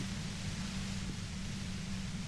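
Steady hiss of white noise from the video game Disco Elysium, a dense, even wash with a low rumble underneath, constant and unbroken throughout.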